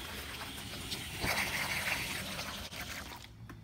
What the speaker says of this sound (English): And turn on the water.